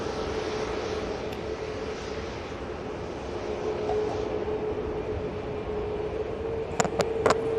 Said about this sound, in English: That's Virgin Atlantic Flight 127. And that's going to follow the Air Lingus Airbus across to New York,